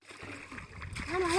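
A foot plunges into village mud with a short wet splash and slosh, close and fairly loud, as a voice rises toward the end.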